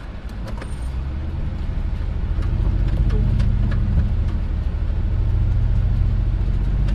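A Toyota off-road vehicle creeps downhill in 4 low first gear over rocky Moab terrain, its engine a loud, steady low rumble throughout, close up with faint rattles and knocks on top.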